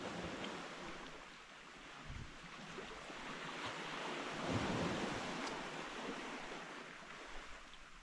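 Ocean waves roll and wash in a broad, soft rumble outdoors at the shore, with gusty wind buffeting the microphone and surging swells rising and falling at a low level.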